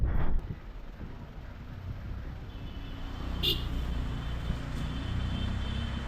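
Vehicles stuck in a road traffic jam on the way to Kodaikanal, a steady low engine and road rumble with wind buffeting, a brief knock at the start and a faint high whine near the middle.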